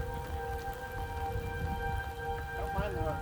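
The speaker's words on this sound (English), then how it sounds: "Don't mind the rain." Steady rain falls during a tornado-warning thunderstorm, a dense even hiss close by, with a sustained tonal wail of sirens running underneath throughout.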